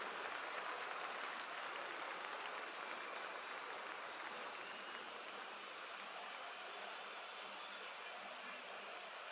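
A stadium crowd in a cricket video game cheers as a steady, even wash of applause-like noise, distant and continuous, with no breaks.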